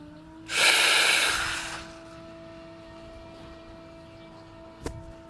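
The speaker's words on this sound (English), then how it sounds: "I'm puffing up my chest at the end of the inhale, blocking the air in, finally letting the air out" A single strong, breathy exhale rushes out for about a second, then near silence follows with a faint click near the end.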